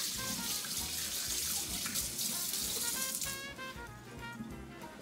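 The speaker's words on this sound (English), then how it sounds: "Let me wash my hands here." Tap water runs steadily into a kitchen sink as hands are washed after mixing baguette dough, a continuous broad splashing rush that eases slightly toward the end.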